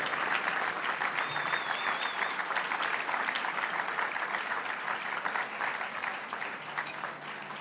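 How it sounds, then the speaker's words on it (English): A large dinner audience at the Urban League's 106th annual dinner gives a sustained round of applause for the Urban League team. The dense clapping holds steady and full for several seconds, then eases slightly near the end. "let's give the entire Urban League team a round of applause for their tremendous work"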